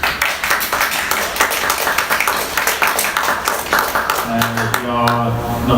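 Applause from a seminar audience at an open philosophy event during an art biennial, with dense, lively clapping that carries on for several seconds before a voice starts speaking over its tail.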